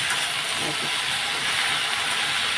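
Fish curry with dal, spiced hot and seasoned with salt, frying in a pan at home, giving a steady, even hiss and sizzle that holds close and constant throughout with no talking.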